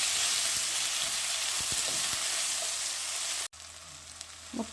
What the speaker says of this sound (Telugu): గుమ్మడికాయ ముక్కలు కూడా వేగుతున్నాయి.